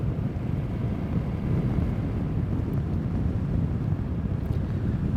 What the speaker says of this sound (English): I can hear some wind.